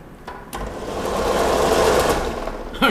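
A friction heater spins at its top setting of 2600 RPM, a steady mechanical whir that starts after a couple of clicks and holds as a loud, continuous drone up close, alone without talk.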